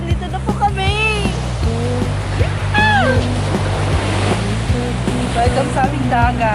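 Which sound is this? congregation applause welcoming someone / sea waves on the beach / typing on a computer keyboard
sea waves on the beach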